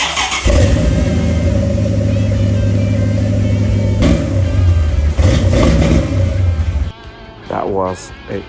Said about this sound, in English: That was a cold start with the all mufflers.